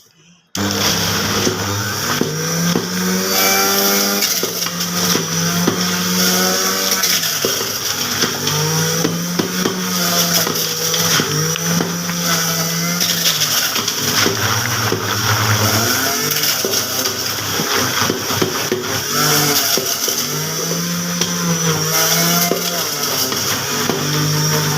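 Kitchen blender whirring continuously as it mixes carrots and ponkan oranges into juice, a loud steady motor drone with shifting pitch as the contents churn, starting abruptly after a brief quiet moment.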